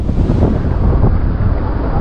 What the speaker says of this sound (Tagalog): Ang ganda dito, guys, malakas yung hangin.